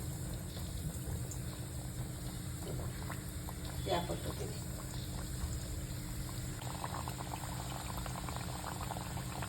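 Anarse sweets sizzle and bubble as they fry in hot oil in a wide, shallow kadhai, a steady close crackling hiss running throughout beneath a woman's speech.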